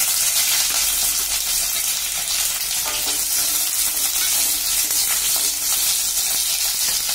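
Mustard seeds, fenugreek, red chili and curry leaves splutter steadily in sesame oil, a loud, continuous crackling sizzle with some stirring, close up and with no talking.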